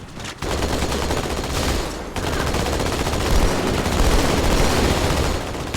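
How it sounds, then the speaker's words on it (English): A Warthog turret fires continuously in Halo 2 on Legendary difficulty. The rapid, loud, unbroken automatic gunfire is close and dense, with one brief pause near the start. "I enjoy the Warthog turrets. They seem to just eat up our enemies."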